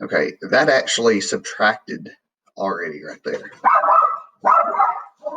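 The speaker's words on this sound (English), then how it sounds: "I don't know if you heard my dog barking" A pet dog barks in short bursts at home, the barks tangled with someone talking steadily over them at close range.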